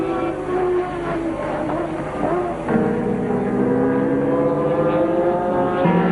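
A Ferrari Formula 1 race car at the 1983 Montreal Grand Prix, its engine a steady, loud, high-revving whine with shifting pitch as it passes, crowd and track ambience blending underneath.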